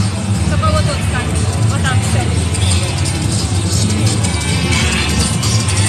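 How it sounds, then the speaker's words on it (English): A bus rumbles past in London street traffic, its low engine drone steady and fairly loud under busy crowd babble, with a few bird-like chirps and people talking nearby. "There's even an anti-ULEZ bus going behind me right now."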